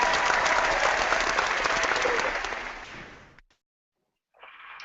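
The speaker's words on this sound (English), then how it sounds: "How about some applause, Mark?" A dense burst of applause from many hands, loud and steady, thins out over about three seconds before stopping into silence, followed by a brief unrelated tone near the end.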